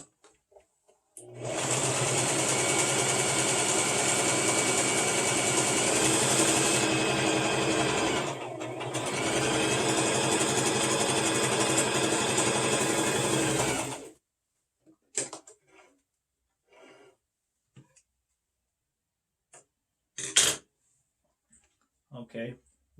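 A sewing machine hems a fabric face mask, running in a loud steady whir for about twelve seconds with a brief pause midway, then stopping, followed by a few quiet clicks and fabric handling sounds.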